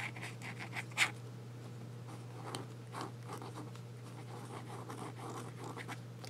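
A dip pen with a medium nib scratches ink across paper in soft, irregular strokes, quiet and close, with a faint steady hum underneath and no talking.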